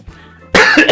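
After a quiet moment, one person gives a sudden harsh cough at close range, followed by a second short cough burst.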